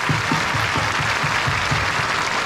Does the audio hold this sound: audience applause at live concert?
yes